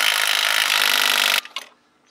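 A socket wrench or tool grinds and rasps against bolts on a BMW E39 530i, loud and close for over a second, then cuts off into a couple of brief clicks and knocks.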